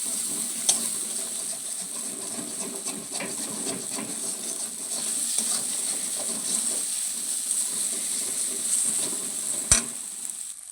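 Spice paste with chilli powder sizzling in hot oil while cooking a Bengali chela fish curry, a steady soft crackle with occasional stirring clinks, no voices.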